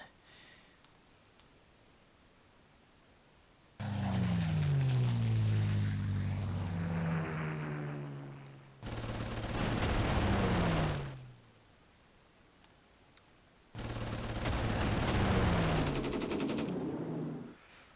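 In the Panzer Corps wargame, a bomber is shot down over Warsaw: three long loud bursts of rattling gunfire and droning aircraft engine noise with falling whine tones, separated by short quiet gaps.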